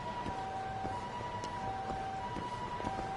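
A police siren in a video game wails steadily in the background over a dense, noisy game soundscape, holding a sustained, slowly shifting tone for the whole stretch.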